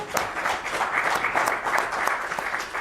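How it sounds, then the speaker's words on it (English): Steady applause from an audience at a city press conference on nonstop flight service at San Antonio International Airport, dense clapping sustained throughout at moderate loudness with no speech over it. "You're free to applaud if you like."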